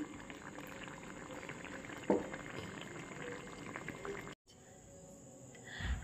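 Lemon and jaggery pickle simmers gently over a low flame, giving a faint continuous bubbling with a soft pop near the midpoint and a brief drop to near silence before the quiet burble resumes.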